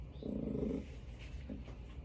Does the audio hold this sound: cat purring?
yes